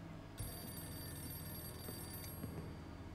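A telephone rings in the video game Mafia 3, a steady electronic ring that begins abruptly and continues under quiet game ambience with no talk.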